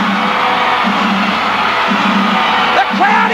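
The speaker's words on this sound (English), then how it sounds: "The crowd is jubilant in Tulsa" A large arena crowd at a professional wrestling show in Tulsa roars and whoops in a sustained wall of cheering, with a few louder yells near the end.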